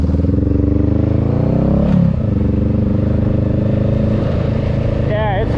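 Motorcycle ridden in the rain on wet roads, a close, steady engine drone with a rev change midway and a brief rising whine near the end, with the rider talking over it.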